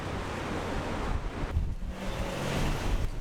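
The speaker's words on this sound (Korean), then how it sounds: "바람을 삼킨 파도가 거칠어지고" Rough Antarctic sea waves churn and break under strong blizzard-building wind, a loud continuous roar with gusty surges and rushing surf.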